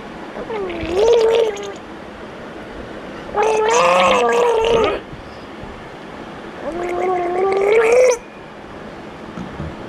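A child gargles and bubbles drinking water in three separate wavering, throaty bursts of a second or two each, close and fairly loud, with quiet gaps between.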